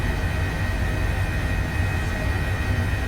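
HPG H145 helicopter in Microsoft Flight Simulator, a steady loud droning engine and rotor roar with a constant whine, unbroken for the whole stretch and heard alone.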